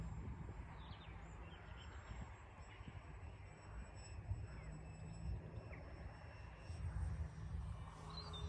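A radio-controlled model Hawker Hurricane on a 3-cell battery flies overhead outdoors, its electric motor a steady buzzing drone that rises and falls slightly as it passes, with no talk.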